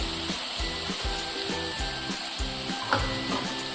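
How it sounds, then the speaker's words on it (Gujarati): Spiced potatoes sautéing in a pan for a Gujarati dum aloo gravy give off a steady, moderately loud sizzle, with soft stirring scrapes and a brief clatter near the end, and no voices. "હવે થોડી વાર આપણે બધાને સાતળવા દઈશું"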